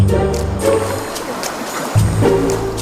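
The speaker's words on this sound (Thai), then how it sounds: "มีเสียงน้ำไหลออกมาจากในถ้ำด้วย" Water flowing out of a huge cave in Laos, a steady broadband rush and trickle close by, with low boat-engine rumble rising and falling beneath it.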